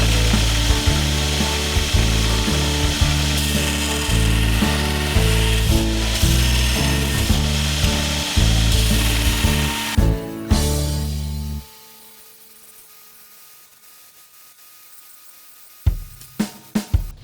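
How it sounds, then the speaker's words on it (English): A belt grinder with a 36 grit belt roughs out steel knife blanks, running loud and continuous with rhythmic rasping pulses as the steel is pressed and lifted. The motor then cuts off, leaving near silence before a few sharp knocks. "Let's get the grinder going. Let's get a 36 grit belt and rough out this dimension, rough out the outline."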